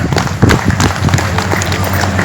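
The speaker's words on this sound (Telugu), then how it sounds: "సో మరి ఒకసారి గట్టిగా రాధా మేడంకి చప్పట్లు కొడదాం." An outdoor audience at a Ugadi festival gathering near a pyramid in Peravaram claps loudly for a woman singer, a dense, close burst of crowd applause that carries on steadily throughout.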